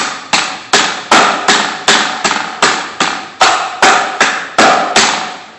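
Loud, regular hammer blows striking a lined drain pipe, about a dozen evenly spaced metallic whacks, close up with no talking.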